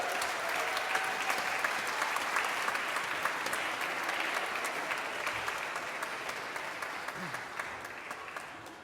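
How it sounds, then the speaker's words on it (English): A round of applause from a congregation at a 2023 convocation service, steady and fairly loud throughout, with a voice speaking faintly over the clapping. "Give them a round of applause"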